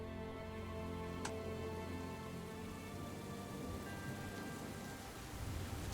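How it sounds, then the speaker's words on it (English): Heavy rain pours down steadily around a campsite, a dense, continuous hiss that stays loud and even throughout with no voices, plus one brief sharp tick near the start. "the rain is coming down hard"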